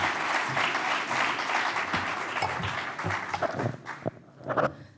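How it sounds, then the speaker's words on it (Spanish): An audience at a public forum in Gipuzkoa claps steadily for several seconds, a dense patter that thins out into a few scattered claps at the end. "Un aplauso para ella."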